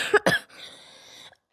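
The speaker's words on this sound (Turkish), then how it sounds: "Bu öksürük beni gece de uyutmuyor." A child with a chronic, long-lasting cough gives two sharp, close coughs in quick succession, followed by a softer raspy exhale that trails off, with no talk.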